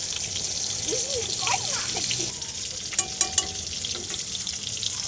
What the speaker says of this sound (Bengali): এদিকে হচ্ছে নাজনীন মাছ ভাজতেছে। দিস ইজ কই মাছ।